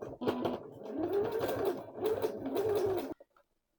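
A sewing machine runs a zigzag stitch across elastic for a skirt waistband, whirring in close, rapid bursts and pausing briefly before stopping with a couple of small clicks.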